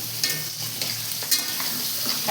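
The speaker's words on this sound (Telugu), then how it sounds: "ఇప్పుడు అవి వేసేస్తున్నారు పీతలు" Crabs stir-fried in a hot pan, with a steady sizzle and intermittent scraping stirs and clinks of a utensil against the metal, close and clear, no talking.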